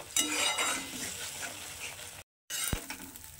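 Spice paste being sautéed in oil in a pan for a South Indian style fish curry: a steady, close frying sizzle with stirring scrapes, briefly cutting out near the end before resuming.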